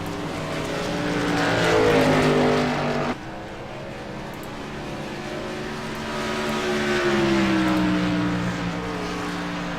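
Race truck engines roar during a pickup truck race at Phoenix, a loud continuous droning whine that swells as the trucks pass, dips, then builds again.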